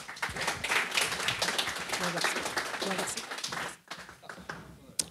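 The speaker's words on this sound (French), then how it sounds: "On peut les applaudir d'ailleurs pour..." An audience applauds panel members at a marketing breakfast round-table, a dense clatter of many hands for several seconds that suddenly drops away, leaving scattered taps.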